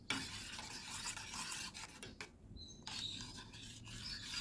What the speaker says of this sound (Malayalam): ഇതെല്ലാം ഒന്ന് മിക്സാക്കി കൊടുക്കട്ടെ